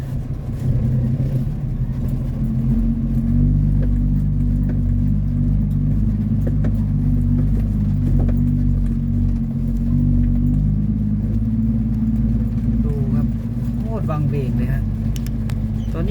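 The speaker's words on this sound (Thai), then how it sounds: "นี่แหละนี่เขาเอามารถไถมาเคลียร์" Steady rumbling engine of a tractor clearing land near an abandoned house, running close and continuous throughout with someone talking over it.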